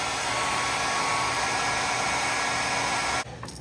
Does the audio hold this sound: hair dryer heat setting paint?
yes